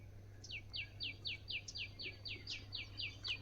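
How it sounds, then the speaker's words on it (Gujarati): Small birds calling outdoors in a quiet early-morning village setting, a steady run of about a dozen quick, high chirps repeating in an even rhythm at moderate distance over a low constant hum. "એટલે પંખીડાને બોલતા હોય"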